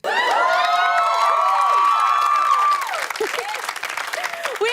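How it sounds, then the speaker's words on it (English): A studio audience at a comedy talk show erupts in loud, sustained applause mixed with cheering and high whoops, then the clapping thins out slightly toward the end. "it's weird that there's more whooping and cheering than actual laughter"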